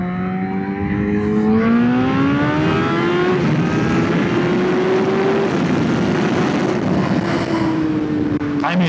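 A 2014 Yamaha FZ1 sport-touring motorcycle being ridden on the road, its engine revving up steadily through the gears in a loud, continuous rising whine with heavy wind rush, close to the rider.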